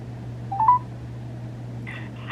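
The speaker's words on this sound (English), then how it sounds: "Let's call the Fredericton Police." Phone dialing tones placing a call to the Fredericton Police, a short tone near the start and a couple of brief beeps toward the end over a low steady hum.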